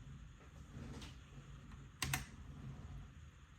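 Key presses on a new mechanical keyboard being set up, a few faint scattered clicks with one sharper, louder double tap in the middle, heard close against a quiet room hiss with no talking.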